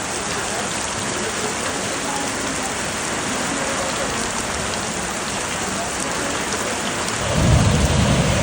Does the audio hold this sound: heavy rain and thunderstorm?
yes